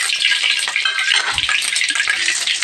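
Mustard seeds dropped into hot oil in a vada pan crackle and sizzle loudly and close for a continuous burst, with dense popping spread throughout.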